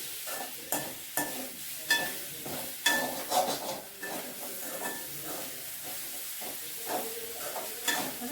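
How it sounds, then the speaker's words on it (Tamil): Grated coconut sautéing in a pan for spicy kara chutney, a gentle sizzle broken by repeated soft stirring scrapes and light spoon taps at an irregular pace. "இந்த தேங்காய் நல்லா வதங்கணும்"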